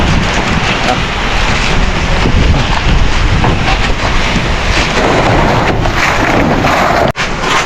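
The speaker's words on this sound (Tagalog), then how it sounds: "Malakas yung ulan." A loud, continuous downpour of heavy rain hammers close by, with gusty wind noise and low rumbling mixed in throughout.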